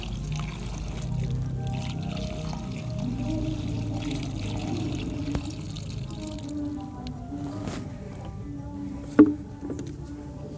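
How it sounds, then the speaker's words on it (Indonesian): Water being poured generously over potted water hyacinth plants, a continuous close gurgling pour with small splashes and one sharper splash near the end. "Ini nyiramnya yang banyak ya,"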